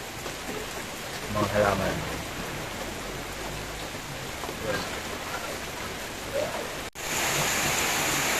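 Heavy typhoon rain pours down in a dense, steady wash, with a person speaking briefly over it.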